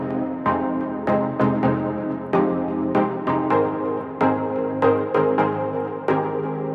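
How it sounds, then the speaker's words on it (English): Bright plucky synth built from two unison saw waves plays an electric-keys chord progression, with repeated short attacked chords in a steady rhythm, loud and close, no talking. "I put it on this really plucky synth,"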